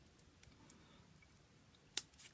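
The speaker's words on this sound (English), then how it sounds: "So I'm going to put my scissors in the hole, and I'm going to just cut" Scissors snip into folded paper while cutting a snowflake design, faint small clicks followed by one sharper, close cut near the end in an otherwise quiet room.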